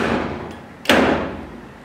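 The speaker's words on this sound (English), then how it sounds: "This is the passenger side door." A single sharp thunk from the passenger side door lock actuator of a Chevy car, fired by remote, with a faint click just before it, heard close up over steady low background noise.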